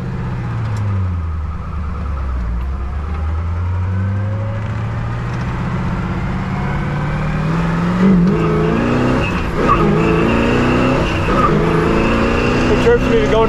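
A 1966 Pontiac GTO convertible accelerates along a road, its V8 engine rising in pitch through the gears with a drop at each shift, heard from inside the car with steady wind and road noise and someone talking over it.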